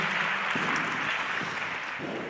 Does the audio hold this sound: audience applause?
yes